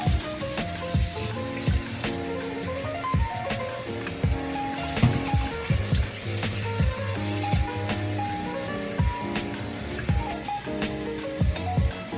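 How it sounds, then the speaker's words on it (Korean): Duck pieces are rinsed under running cold water in a kitchen while braised Korean duck is being prepared, a steady splashing hiss with scattered clinks and knocks of the pieces against the bowl. "찬물에 여러 번 씻어주시면 됩니다."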